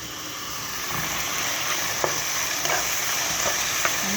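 Aromatics and tomatoes sizzle and fry in a pan for chicken biryani, a steady loud hiss with occasional soft scrapes and clicks of stirring, no talking.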